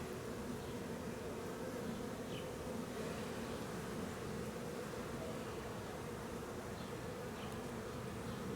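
Dense, steady buzzing of many bees around an 8-frame hive fills the air continuously, a close and even drone with no voices.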